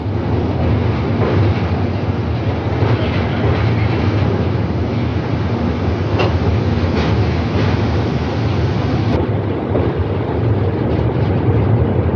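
The Kanchankanya Express passenger train rumbles steadily along a forest track at constant speed, a dense continuous roar of wheels and carriages with faint rhythmic clatter, close and loud throughout.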